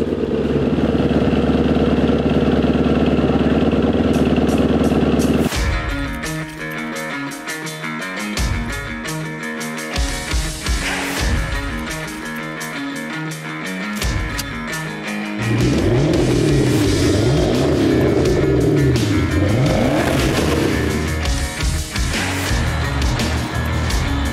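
Maserati 3200 GT with its V8 biturbo engine and stainless steel exhaust, loud and close, a steady idle that breaks into revving bursts and rising, falling engine notes, with no talk over it.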